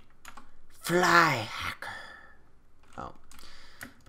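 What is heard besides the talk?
computer keyboard clicks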